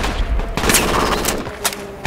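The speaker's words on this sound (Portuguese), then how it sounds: "Tô levando tiro já." Bursts of rapid gunfire crackle continuously through a dense, noisy soundscape in the game Project Reality, with a few louder sharp shots standing out.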